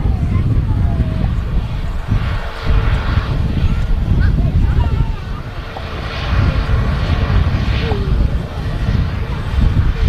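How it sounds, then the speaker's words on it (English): A Boeing 737 MAX 9 at Manchester Airport produces a steady, heavy roar that holds loud throughout, with slight swells and faint higher tones riding over the broad rumble. "this is a 737 MAX 9 aircraft, this."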